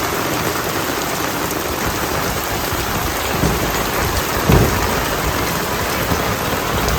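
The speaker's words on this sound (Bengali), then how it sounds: "সেরকম বৃষ্টি নামছে।" Heavy monsoon rain in rural Bangladesh pours in a dense, continuous hiss on surfaces, with a low rumble of thunder rolling in around the middle; no speech.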